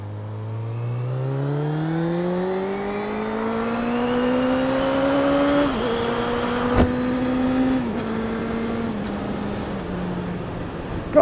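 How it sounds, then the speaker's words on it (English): A motorcycle engine at high revs, loud and close, its pitch climbing steadily as it accelerates, then dipping briefly at gear changes before settling into a sustained high-revving drone. "the bike sounds good at high revs."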